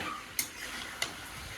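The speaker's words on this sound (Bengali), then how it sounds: "মাংসটা ভালো মতন কষিয়ে নিতে হবে, তারপরে জল দিয়ে দেবো।" Chicken pieces sautéing in a pan for a thin potato curry: a soft, steady sizzle broken by two quick scraping stirs.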